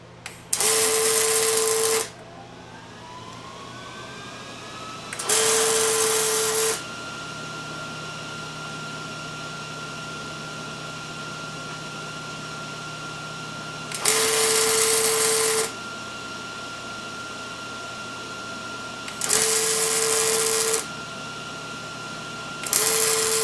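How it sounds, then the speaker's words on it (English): Several bursts of steady, harsh buzzing and crackling, each lasting a couple of seconds, separated by quieter humming gaps, as steel is arc welded close by on a rail dragster steering part. "So let me weld that up."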